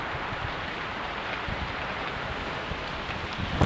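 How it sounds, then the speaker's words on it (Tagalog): Steady hiss of rain falling in Tagaytay, continuous and even, with a few louder taps near the end. "Sinabutan na nga ako dito ng pag-ulan."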